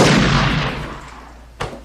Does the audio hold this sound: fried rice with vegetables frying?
no